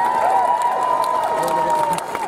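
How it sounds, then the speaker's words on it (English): Crowd applause and cheering at an anti-Trump demonstration in George Square, Glasgow, greeting the chair of a Black Workers Committee. The roar is loud and sustained, with raised voices running through it for the whole stretch. "A big round of applause for Suki Sangha."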